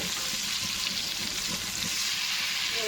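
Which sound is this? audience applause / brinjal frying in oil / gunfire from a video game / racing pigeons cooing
brinjal frying in oil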